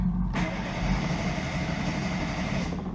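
A ZAZ Sens car with a stalling fault is started: after a brief quiet moment the engine sound kicks in abruptly and carries on steadily and close for a couple of seconds, with no talking.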